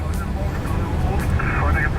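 Airplanes taxiing at Frankfurt airport, a steady loud jet engine rumble and whine filling the scene under a voice speaking throughout.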